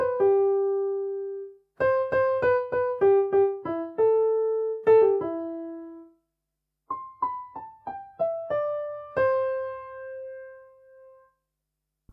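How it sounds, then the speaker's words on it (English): Higher-pitched piano line in a song, working through a few short repeated melodic phrases of bright separate notes, with brief pauses between phrases and a soft low accompaniment underneath. "We also hear a higher pitched piano, which works through a few repeated melodies that sound like this."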